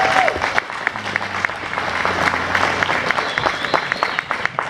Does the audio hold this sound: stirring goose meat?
no